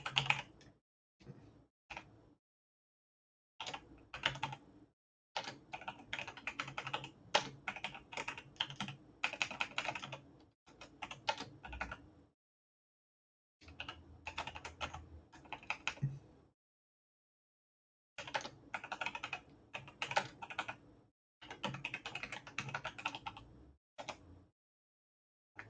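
Computer keyboard typing in close, clicky bursts of keystrokes separated by brief silent pauses, quiet and steady throughout.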